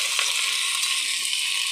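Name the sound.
frying vegetables with cauliflower and fish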